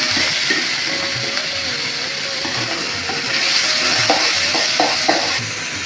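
Ginger paste, tomatoes and green chilies sizzle steadily in a pan for a boiled egg and potato curry, with intermittent spoon-stirring clicks over the continuous frying hiss.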